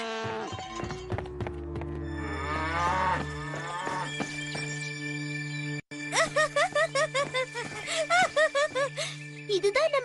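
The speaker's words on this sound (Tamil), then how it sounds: "என்ன இது, மாடுங்க இப்படி சத்தம் போடுதுங்க?" Cartoon cows mooing, several long, drawn-out lowing calls layered over each other, followed by a run of short rhythmic thumps like hooves; voices also sound in the scene.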